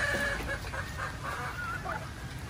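Chickens cluck and murmur softly in a steady, noisy background, with several birds calling close by and no talking.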